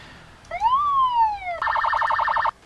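A police car siren in the game Emergency 4, São Paulo mod, sounds loud and near. One rising-then-falling wail switches abruptly to a rapid warbling yelp, then cuts off.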